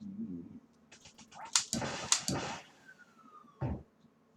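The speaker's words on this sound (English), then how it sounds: "Dog's laughing at me." Dog laughing in the NES game Duck Hunt, a short run of chirpy, stuttering electronic snickers with a final blip, heard close and fairly loud.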